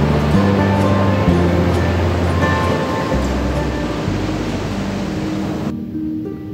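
Sea waves wash steadily beside an island, a loud, constant rush of water under a low, droning motor hum that cuts off near the end.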